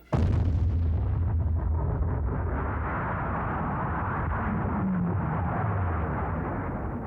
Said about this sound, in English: The USSR detonated their first nuclear bomb.